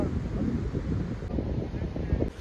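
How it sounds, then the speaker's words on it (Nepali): Cold wind blowing by a river, a steady broadband rush buffeting the microphone throughout with low rumbling gusts. "खोलामा चिसो हावा आइरहेको छ।"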